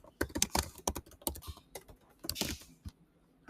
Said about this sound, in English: Oops, if I type that correctly.